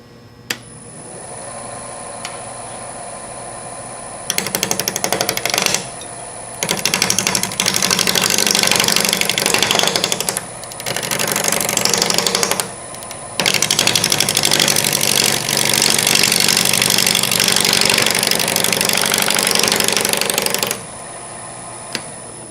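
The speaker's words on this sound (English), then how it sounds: "The tool I'm going to be using for most of the work is my standard deep fluted bowl gouge." Wood lathe turning a natural edge bowl, with a deep fluted bowl gouge cutting in loud bursts of rough, hissing chatter broken by short pauses while the lathe hums on.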